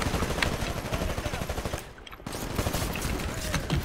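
Dense, continuous automatic gunfire from the Titanfall beta in a close-quarters map, rapid bursts rattling nonstop, briefly dropping out for a moment before resuming at full intensity.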